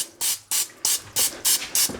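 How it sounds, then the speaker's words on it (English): Pam non-stick cooking spray sprayed onto a concrete fingerboard obstacle mould gives seven short, loud hissing bursts in quick succession, each a fraction of a second long, with no talk. "we're gonna spray this with some Pam because it's a non-stick"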